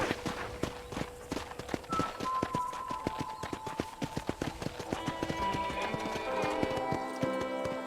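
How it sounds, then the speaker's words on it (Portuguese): Horse hooves clip-clop at a steady riding pace in Red Dead Redemption on Xbox One X, close and clear, with sustained game music tones building beneath them. "Okay, let's see if you can still ride a horse."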